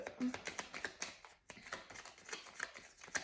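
Tarot cards riffled and shuffled by hand for a reading, a quick run of crisp flicking taps with a brief pause partway through, close up.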